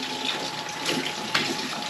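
Tap water runs steadily over hands being rinsed at a sink, a short continuous splash with slight shifts as the hands move under the stream.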